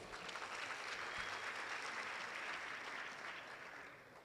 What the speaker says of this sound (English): This is a great achievement, and let's give it a big round of applause.